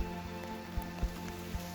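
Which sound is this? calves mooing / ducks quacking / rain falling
rain falling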